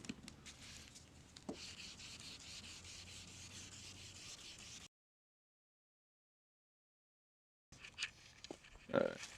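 Sandpaper is rubbed back and forth in wet strokes over the headlight of a Nissan Y33 Q45, a soft rasping scrub that runs for several seconds, then stops in silence before resuming briefly amid handling noises.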